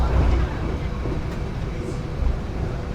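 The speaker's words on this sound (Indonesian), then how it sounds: "Saat ini kereta api Pandalungan melintas langsung stasiun Grati dengan kecepatan 119." Low, steady rumble of the Pandalungan passenger train running at speed, around 119, through Grati station, heard from inside with continuous rolling noise and a few louder surges.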